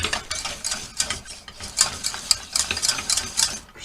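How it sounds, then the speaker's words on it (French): Flour roux for gougères cooks in a pan while being stirred continuously, a close, rhythmic scraping and light sizzling that rises and falls with each stroke and no voice. "Je vais cuire le roux"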